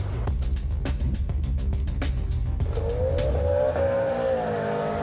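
A Subaru Impreza WRX STi with around 300 horsepower launching hard from a start line, its engine revving loudly up through the gears, followed by a rising whine as it pulls away, close and dominant, with no talk.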